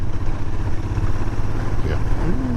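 A Royal Enfield Interceptor 650 twin motorcycle engine hums steadily on a road test ride, a continuous low drone with a brief rising note near the end.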